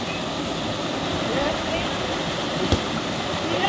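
River water rushes and churns steadily, a dense broadband roar with a brief sharp knock partway through.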